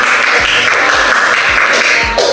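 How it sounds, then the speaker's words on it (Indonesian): A classroom group claps together in a loud, steady burst of applause, sustained and close throughout with no voices rising above it. "Mari kita berikan aplaus"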